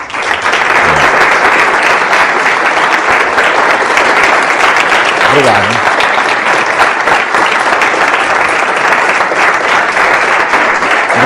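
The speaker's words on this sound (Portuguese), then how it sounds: "Eu ia pedir uma calorosa salva de palmas para o Sr." A lecture audience on leadership and ethics breaks into warm, sustained applause, loud and steady throughout, with a brief spoken thank-you near the start.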